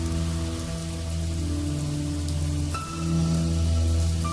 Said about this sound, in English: It begins to rain harder.